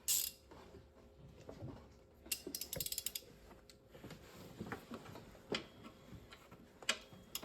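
Ratchet clicking while loosening a 15mm idler pulley bolt on a 2013 Chevy Suburban engine, giving bursts of close, sharp mechanical ticks in rapid runs with pauses between strokes.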